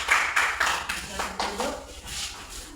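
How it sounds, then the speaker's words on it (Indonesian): A small classroom group claps after a discussion session, a few loose, uneven handclaps in short bursts, fairly close, with some voices mixed in. "berikan tepuk tangan"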